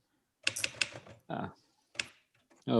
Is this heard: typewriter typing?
yes